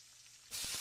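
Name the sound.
meatball frying and burning in a pan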